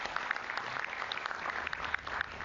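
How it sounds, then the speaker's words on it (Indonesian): Clapping from a studio audience for Prof Ikrar Nusa Bakti on an Indonesian talk show, a dense, moderately faint patter of many hands with no voices. "Sekali lagi kita berikan tepuk tangan yang meriah untuk Prof Ikrar Nusa Bakti."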